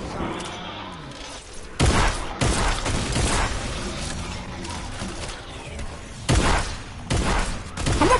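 Rapid bursts of gunfire from the video game Fortnite, several loud clustered volleys with short gaps between them, up close, over a busy game soundscape.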